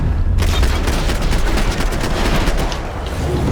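Gunfire from the video game Max Payne 3 comes in a loud, dense burst of overlapping shots and rattling automatic fire that starts abruptly and keeps going steadily.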